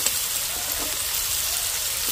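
Chopped onion sizzling in hot oil in a frying pan, a steady close hiss of frying with faint stirring, no talking.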